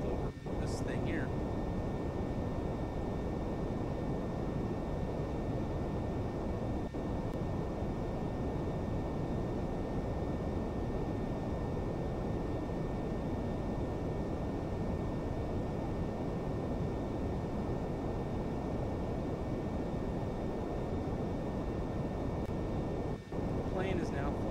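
An airplane flying on autopilot in Kerbal Space Program gives off a steady, loud, unbroken engine roar that stays even the whole time, with a brief faint click near the start and again near the end.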